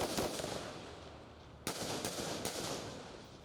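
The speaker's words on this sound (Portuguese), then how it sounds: "Motoristas se arriscavam em meio aos tiros." Distant rapid gunfire crackles during a police operation, over steady background noise, with several sharper shots standing out in a quick sequence.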